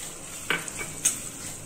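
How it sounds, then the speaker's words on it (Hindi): Capsicum tossed into softened onions in a hot pan for pav bhaji, a faint continuous sizzle with two quick stirring scrapes, quiet and close. "प्याज सॉफ्ट हो चुके हैं, अब हम इसमें शिमला मिर्च डाल देंगे"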